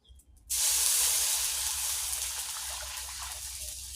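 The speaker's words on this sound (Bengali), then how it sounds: "জল দিয়ে দিলাম" Water splashes into a wok set on a lit clay stove, starting abruptly after a brief quiet moment and settling into a loud, steady hissing spray that slowly eases.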